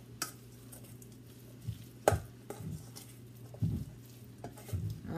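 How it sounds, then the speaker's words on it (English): Food being stirred in a bowl during home cooking of shrimp, chicken sliders and summer rolls, with a few separate scraping clinks and soft swishes over a low steady background hum, fairly close. "we're going to stir this up"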